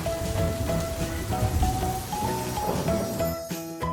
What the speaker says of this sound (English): She and George run outside to play in the rain.